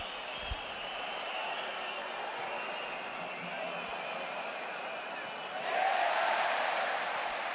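Stadium crowd at the 2025 Copa del Rey final between Barcelona and Real Madrid, a steady roar that swells into a louder cheer near the end.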